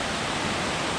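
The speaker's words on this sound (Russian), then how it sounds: "водопад." A waterfall on the trail up Mount Olympus in Greece roars as a steady, broadband rush of falling water, loud and close and unchanging for the full second, with no other sounds.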